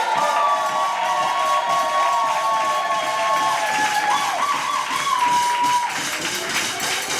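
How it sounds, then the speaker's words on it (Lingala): A wedding crowd cheers and shouts in a sustained, lively roar, with scattered claps and children's voices mixed in, while a warbling tone and a voice ride over the noise throughout. "Est-ce qu'on peut acclamer pour faire le bruit?"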